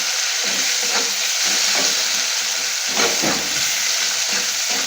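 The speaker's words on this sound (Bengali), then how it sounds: "পেঁয়াজটা হালকা করে লাল লাল করে ভেজে" Sliced onions sizzle steadily in hot oil for a rohu fish poppy-seed curry, with a few scraping stirs of a spatula across the pan cutting through the constant close hiss.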